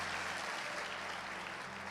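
A church congregation claps for their pastor, dense continuous applause filling the room throughout, loud and even, with no distinct voices.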